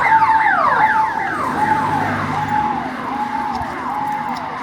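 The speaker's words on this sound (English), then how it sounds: "whenever there is noise, just like that ambulance behind me" An ambulance siren wails loudly nearby on Bidhan Sarani street in Kolkata, its rising and falling sweeps repeating over a steady rumble of street traffic.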